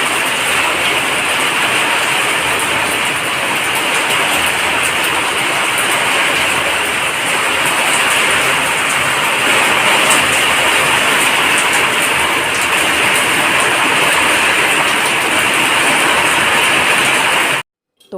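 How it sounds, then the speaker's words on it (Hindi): Steady rain falls outdoors in a continuous, dense wash of broadband hiss with no clear breaks, holding even and fairly loud for about seventeen seconds before cutting off abruptly near the end. "तो बाहर तो बारिश हो गई थी"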